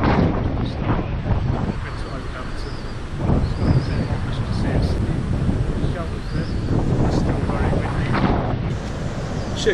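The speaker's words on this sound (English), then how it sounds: "can you hear the wind?" Strong gusting wind roars across open Dartmoor moorland near Great Links Tor, a dense continuous rush buffeting the microphone throughout, with a voice speaking briefly under it.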